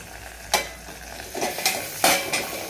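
Okra cooks in a pan for bhindi bhaji, a soft fry under several sharp metallic scrapes and clinks of a spoon stirring against the pan, close and intermittent, with no voices.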